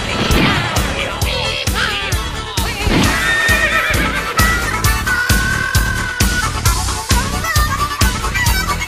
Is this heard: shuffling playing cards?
no